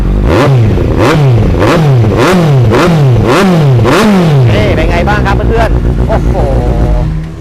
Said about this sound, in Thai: เดี๋ยวมาฟังเสียงท่อกัน